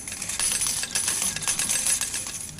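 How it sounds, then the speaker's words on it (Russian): Slot machine coins clatter and jingle in a bright, continuous metallic cascade, dense and ringing, with no voices. "здесь даже специально подобран звук монеток"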